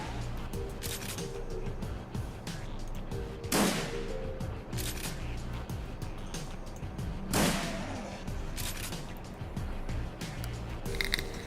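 Two sharp bursts of gunfire and spell effects, heavy blasts at a few seconds' spacing, ring out over a steady game music bed in the tactical RPG Shadowrun Returns.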